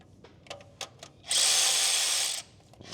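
A DeWalt power drill runs down bolts during a 6.7L Powerstroke injector repair, giving one loud, steady whirring burst of about a second. Brief clicks and handling knocks of the work come just before and after it.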